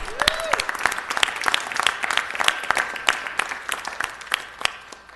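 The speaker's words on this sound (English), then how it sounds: "let's give him one more round of applause" Applause at a city council meeting, a loud scattered round of clapping from the chamber with a brief whistle near the start, lasting about five seconds.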